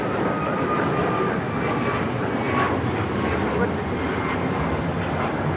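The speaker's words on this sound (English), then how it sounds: "This is United Airlines 2113 taking off to Chicago on the 737 MAX 9." A United Airlines Boeing 737 MAX 9 takes off at Los Angeles International Airport, giving a steady, loud jet engine roar with broadband rumble that holds evenly throughout, with people talking over it.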